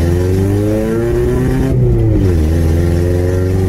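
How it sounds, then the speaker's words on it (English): Loud old car engine revving up and settling back down, a steady, continuous roar with a rising and falling pitch and a loud exhaust, heard close up with no talking. "So loudness from a car comes from more than just the exhaust, which the exhaust on this is loud"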